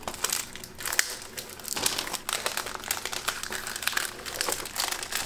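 Plastic shrink wrap on a Too Many Bones board game box being cut and peeled open, a close, continuous crinkling and crackling with sharp rustling bursts and brief tearing, no voices.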